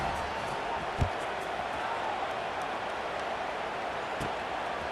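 Stadium crowd from EA Sports College Football 26, a steady, dense roar of massed voices at moderate level, continuous throughout with a couple of brief thumps.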